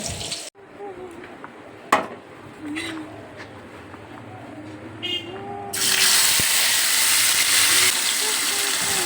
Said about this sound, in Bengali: টমেটো তেলের মধ্যে দিয়ে দিয়েছি এটা ভাজা হচ্ছে